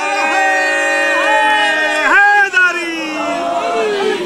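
A crowd at a religious gathering at Darbar Alia Peer Jag Roshan Ali Shah chants a religious slogan loudly in unison, with long sustained voices whose pitch rises and falls.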